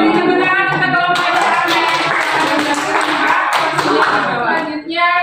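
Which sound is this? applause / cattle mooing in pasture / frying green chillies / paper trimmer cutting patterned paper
applause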